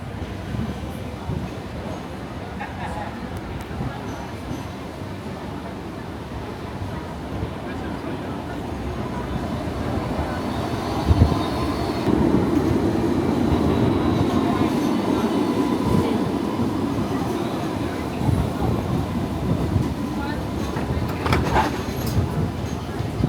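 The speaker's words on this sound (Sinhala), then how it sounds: "ඔන්න අපේ ට්‍රේන් එක යනවා සර්කියුලර් කී වලට යන්න" A Sydney train heading to Circular Quay rumbles and rolls along, its low mechanical noise steadily building and then holding for about twenty seconds, with faint voices underneath.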